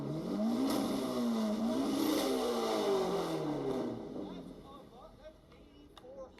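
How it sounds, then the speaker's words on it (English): A car engine revs hard and loud, its pitch climbing and falling in repeated sweeps before settling and fading toward idle, with a brief clatter near the end. "let's get some rev clips, Dill."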